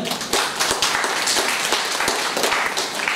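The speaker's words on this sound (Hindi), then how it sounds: "तो एक बार मैं चाहूंगा डॉक्टर ग्रेस के लिए जोरदार तालियां।" An audience at a film premiere breaks into loud, sustained applause, with a dense wash of many hands clapping close by throughout.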